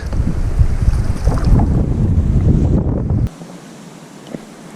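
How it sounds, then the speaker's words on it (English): Strong wind buffets the microphone over open quarry water during a bass fishing trip, a loud continuous roar that cuts off abruptly partway through, leaving a faint calm background. "I had to stop the paddle because of this damn wind."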